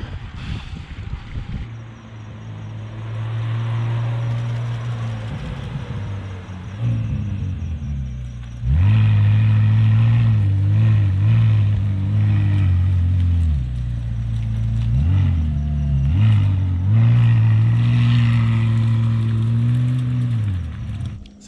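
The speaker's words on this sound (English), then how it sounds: "So this is the brand new McLaren." A brand new McLaren sports car on a Hong Kong street gives a loud, deep engine rumble that swells into revving bursts after a quieter stretch, rising and falling in pitch.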